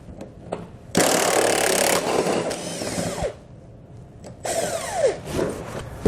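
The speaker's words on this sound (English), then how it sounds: "It uses the same size socket to remove the bolt." A power socket tool spins out a body mount bolt on a vehicle during a nerf bar installation, giving two loud bursts of whirring and rattling, with metallic handling clicks in between.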